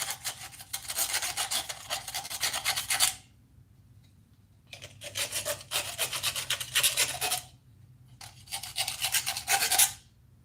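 Hand file scraping burrs off a metal piece in three bursts of rasping back-and-forth strokes, each a few seconds long and separated by short quiet gaps, close and fairly faint, with no speech.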